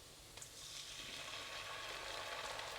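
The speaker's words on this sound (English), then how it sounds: "We'll fry until we can smell the beautiful fragrance from here, which is now." Chili flakes, tomato ketchup and sauces fry in a hot pan, a steady soft sizzle rising after a brief clink and holding evenly, with no talking.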